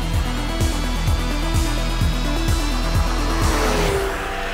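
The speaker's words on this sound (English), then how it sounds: "this engine is super, super smooth. The torque curve is so flat. It just makes all the power all the way from 4 to redline." Flat-six engine of a 1987 RUF CTR Yellowbird, a modified Porsche-based car, revving smoothly in repeated rising pulls, loud and close, with sharp drops between each of about nine rhythmic revs.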